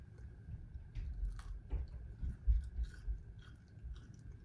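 Fried anchovies being chewed up close, quiet crunchy bites and mastication in an irregular rhythm against faint background hum.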